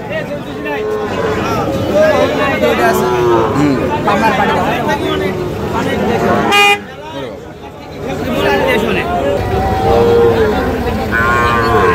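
Sahiwal bull calves low repeatedly at a busy village cattle market, their moos mixed into a dense crowd of bargaining voices, with a short horn-like toot partway through.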